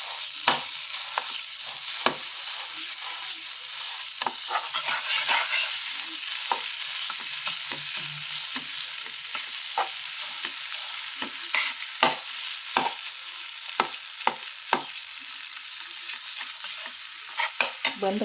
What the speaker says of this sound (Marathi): यामध्ये आपण 1 वाटी दूध टाकणार आहोत. रवा गरम करून घेणार आहोत आपण.